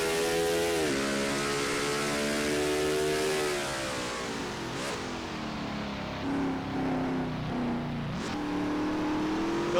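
Onboard race car engine from the 61 car lapping Yas Marina in a sim racing game, a loud steady high drone rising and dropping with gear shifts and throttle lifts, one sharp downshift dip midway and another near the end.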